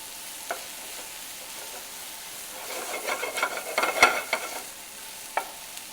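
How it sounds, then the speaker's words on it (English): Mushrooms and onions sauté in a pan while cooking a beef and mushroom madras, a soft steady sizzle with stirring scrapes that build to a cluster of louder clatters near the middle, then settle back down. "we're going to add the mushrooms. And just saute those off."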